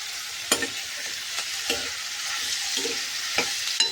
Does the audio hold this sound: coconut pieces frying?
yes